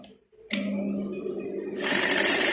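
A sewing machine winds thread onto a bobbin, with a winder that fills the bobbin on one side only and a noisy motor. A steady close whirring starts after a brief quiet moment and grows louder and more rattly near the end.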